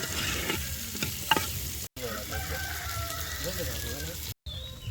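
Onions and green chillies frying in a pan for a Jaffna-style village squid curry: a continuous crackling sizzle with stirring scrapes, fairly close, broken by two brief moments of silence.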